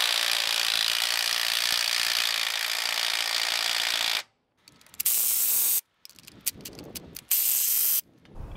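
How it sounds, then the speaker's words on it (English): A ratchet undoes cylinder head nuts on a 1950s Caterpillar diesel engine in a workshop: a dense, continuous run of clicking, then short separate bursts of ratcheting with brief silent gaps, up close. "let's get all these head bolts undone, or head nuts"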